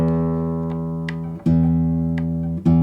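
Sustained classical guitar notes ring out as the strings are tuned against a tuner, with fresh plucks near the start and a couple more later, and no one speaking.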